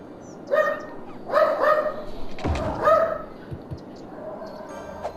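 A pet dog barks in short harmonic bursts, three close barks in the first three seconds then a fainter yelp, fairly near and over a low background hum.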